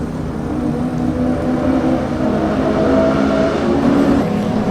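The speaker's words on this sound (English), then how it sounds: "BMW corner, various E36 BMWs." BMW E36 race cars lap the Oulton Park circuit, producing a loud, sustained engine roar with droning revs at close range and no talking.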